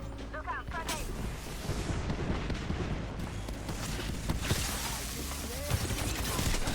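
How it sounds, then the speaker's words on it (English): Grenade explosion in Apex Legends within a busy firefight, heavy rumbling blasts and gunfire continuing at moderate level, with players' voices talking over the action. "Look out, grenade."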